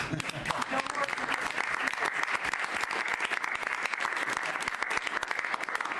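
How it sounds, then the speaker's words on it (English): Reporters at a presidential press event break into loud, dense applause that continues steadily for several seconds, with voices talking over the clapping. "The press actually broke out in applause."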